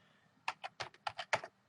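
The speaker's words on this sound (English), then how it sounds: "rather than me typing this in" Computer keyboard typing during a spreadsheet lesson: a short burst of about seven crisp key clicks at an even, quick rhythm, close and fairly quiet over a low room hum, with no talking.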